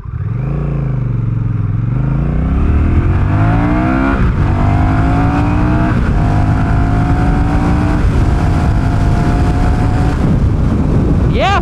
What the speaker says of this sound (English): let us do a little pull on the Rebel